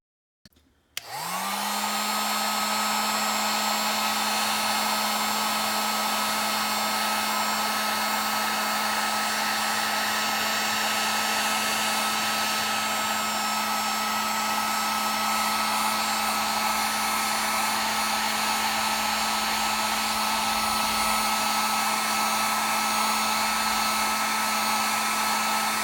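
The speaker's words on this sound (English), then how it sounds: "I'm going to go ahead and get a heat gun to it and try to soften up some of this glue keeping it in" A heat gun softens the glue behind the side mirror glass of a Ford Edge / Lincoln MKX, starting with a click and spinning up to a loud, steady fan-and-air roar that holds unchanged for over twenty seconds.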